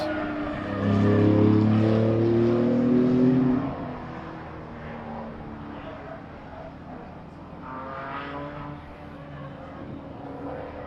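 A Porsche GT2 RS race car drives by on a racetrack, its engine tone swelling loudly then fading into a steadier distant drone, with other engine sounds lingering and a voice talking over it.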